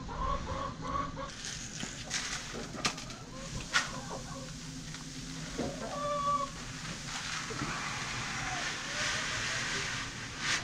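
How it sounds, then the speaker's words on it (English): Chickens cluck softly while being fed during winter farm chores. The low, scattered clucks sit under a steady background hum, with occasional clearer calls standing out near the middle. "now let's get these chickens fed and watered"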